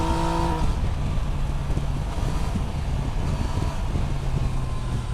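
A Yamaha Niken GT three-wheeled motorcycle on its stock exhaust rumbles steadily while riding, a continuous engine and exhaust drone mixed with rushing wind, with no talking.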